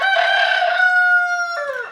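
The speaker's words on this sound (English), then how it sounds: "the rooster is still in the yard, if you can't tell" A rooster in a yard gives one loud, close crow, a long sustained call that breaks into a falling final note.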